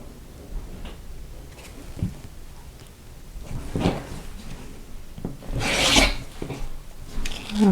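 Quilt block fabric is trimmed to size on a cutting mat, with scattered rubbing and scraping strokes and small knocks, close and moderately loud, no talk.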